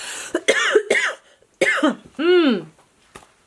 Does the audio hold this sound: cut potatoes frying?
no